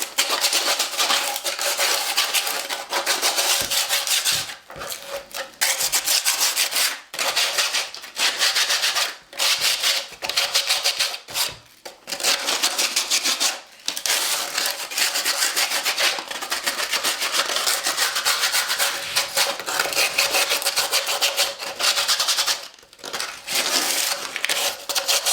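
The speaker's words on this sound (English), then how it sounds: "It doesn't need a heavy sand, you just want to denib it." Light hand sanding to denib a fibreglass plug, a loud, continuous close abrasive scrubbing in long strokes with brief pauses between passes.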